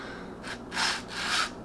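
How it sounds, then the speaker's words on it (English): The gravel-like bolt of a GSG-16 rifle grinds and rasps with gritty friction during field stripping. It comes as a few slow, close scraping strokes over a quiet background. "You can probably hear that grating on the inside."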